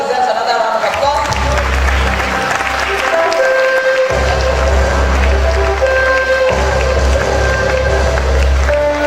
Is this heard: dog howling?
no